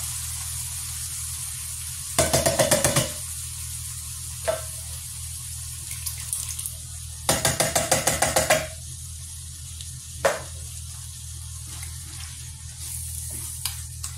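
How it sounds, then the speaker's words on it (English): Chopped tomatoes tipped into a pan of cooked ground beef for a Greek casserole: two bursts of loud rapid tapping and scraping stand out over a steady sizzle, with a few single knocks between them. "now I'm gonna take my chopped tomatoes and put it in here"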